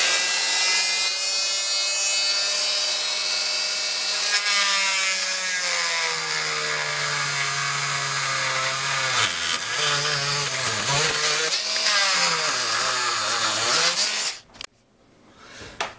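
Power tool cutting a panel for a modification of Edifier R2700 speakers: a continuous, loud whining tone that dips and wavers in pitch under load, then stops abruptly near the end.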